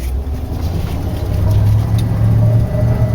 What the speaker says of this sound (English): It's a T180 tracked skid loader.